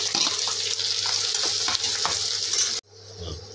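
Onions frying in a pan for a dry fish masala curry, a loud continuous sizzle with occasional stirring scrapes, close up, that cuts off abruptly near the end to a quieter background.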